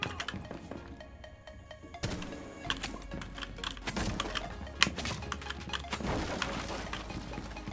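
Typing on a budget DOREVO mechanical keyboard produces a quiet, close stream of irregular key clicks and clacks with occasional louder taps, with no voices.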